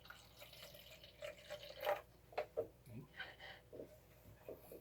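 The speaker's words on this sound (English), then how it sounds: "I'm going to pour some water into this container." Water is poured from above into a container during a fluids and density demonstration, a faint, irregular splashing and trickling with soft drips, quiet and close with low room noise.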